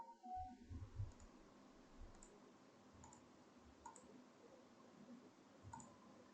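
A computer mouse clicks faintly in a quiet room, about five light, spaced clicks after a brief low rustle at the start.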